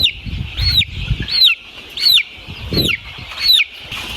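Jawari country chickens about twenty days old cluck and squawk in a poultry shed, a close, loud run of about five sharp repeated calls spaced roughly evenly, with no talk.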